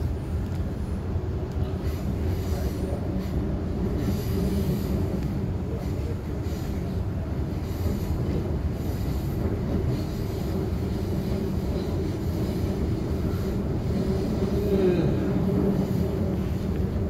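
A train runs along the Shorncliffe line toward Northgate, a steady low rumble and rolling rail noise carrying on continuously throughout at an even, moderately loud level.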